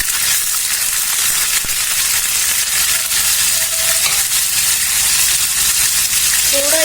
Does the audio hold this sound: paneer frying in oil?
yes